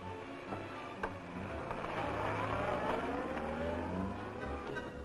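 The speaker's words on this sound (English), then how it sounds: "Let's enter this car and proceed in search of them." Car engine running steadily as the car moves off for a drive through Lucerne, Switzerland, around 1960, a continuous moderate rumble with road noise and no talking.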